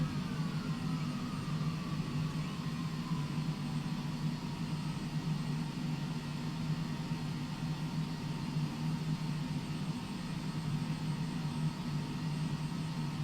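Simulated airplane engine drones steadily on the runway in a flight simulator, a constant low hum with a faint higher whine, unchanging throughout and without speech.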